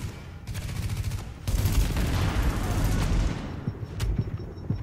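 Bursts of rapid gunfire in the video game Tom Clancy's The Division, dense and sustained with layered shots and booming impacts, loud throughout with no talk over it.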